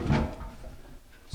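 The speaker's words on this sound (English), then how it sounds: "This is the way the door is going to be when it's open." A wooden kitchen cabinet door swings open on freshly fitted hinges during installation, giving a soft knock at the start and a sharper clack at the end, close by and with no talking.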